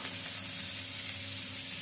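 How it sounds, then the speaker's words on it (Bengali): Cauliflower florets hiss and sizzle in hot oil for a dhaba-style mixed vegetable bhuna, a steady, close, unbroken frying crackle with no talk. "তেলটা গরম হয়ে গেছে, এবারে এর মধ্যে দিয়ে দিচ্ছি প্রথমে ফুলকপিগুলো ভেজে নেব।"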